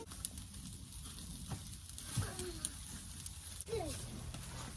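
Meat sizzles faintly on a mangal barbecue grill outdoors, a low steady hiss with occasional small pops while people talk nearby.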